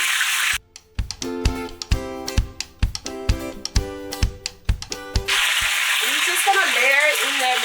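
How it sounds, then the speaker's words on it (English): Chicken wings sizzle and crackle steadily in hot oil at close range, broken by a run of rhythmic clacking knocks before the frying hiss swells again. "So I'm gonna start frying the wings."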